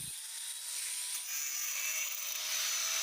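A cutting tool grinds through a triangular metal piece for a homemade bike cultivator, a steady high-pitched rasp running continuously and fairly close.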